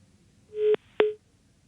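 Two short telephone dialing tones sound on a phone line, one right after the other, clear and alone against a quiet background.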